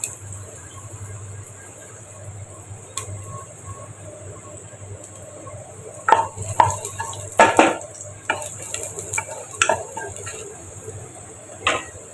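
Onion and whole cumin with spices fry in a pan for a prawn and sweet gourd curry: a low, steady sizzle, then a cluster of close scraping stirs with a few sharp clinks partway through. No one speaks.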